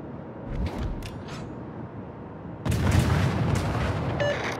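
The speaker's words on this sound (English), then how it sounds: "Concentrate fire on the enemy warship" Naval guns firing from a warship in World of Warships, a broad loud blast erupting partway through after a quieter stretch, followed by a sustained rumble and a faint alert tone.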